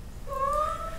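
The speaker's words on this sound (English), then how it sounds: "Then there's my cat." A single cat gives one short, clear meow, close and fairly quiet, rising then sliding down, with no other sounds around it.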